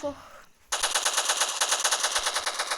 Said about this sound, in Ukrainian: Він там щось стріляє.